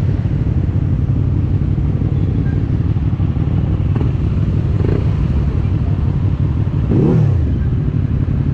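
A QJMOTOR SRV 600V motorcycle roars along on a ride, a loud continuous engine drone with wind rush, rising briefly in a rev near the end, with no clear talking over it.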